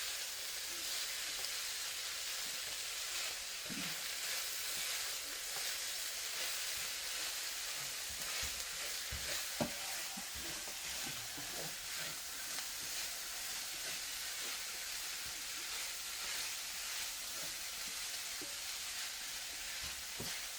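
Ground meat and green onions frying in a pan for an egg roll in a bowl dish, giving a steady, close sizzling hiss with small pops and crackles throughout.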